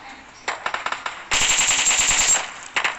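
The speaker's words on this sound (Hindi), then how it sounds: "एकदम से कोई मेरे को फायर करता है बहुत तेज" Automatic gunfire in a video game squad fight, a burst of rapid single shots followed by a long, loud machine-gun volley and a short final burst, with no talking.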